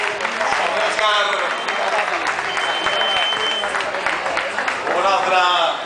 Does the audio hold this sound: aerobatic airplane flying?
no